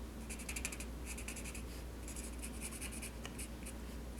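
Bullet tip of a light-colored alcohol marker blending ink on paper with scrap paper underneath, a series of quick, soft squeaky scribbling strokes in short bursts, close and quiet.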